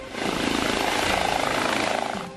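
A helicopter flies over the scene of a huge pile-up on a road, its steady rotor and engine roar filling the air without a break and fading slightly at the end.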